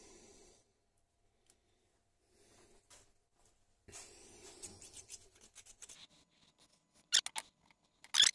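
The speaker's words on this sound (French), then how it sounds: "On enlève la vieille filasse avec une lame de scie" A saw blade scrapes old hemp thread off threaded pipe fittings, giving soft intermittent rubbing and rasping strokes, sparse at first, then quicker bursts with a few sharp scratches near the end.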